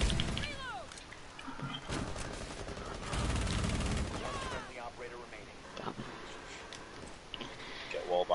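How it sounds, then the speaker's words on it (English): Rapid bursts of gunfire from random shooting in an online multiplayer shooter game, dense volleys in the first half thinning to scattered shots, with a voice talking over parts of it. "Literally just shooting randomly."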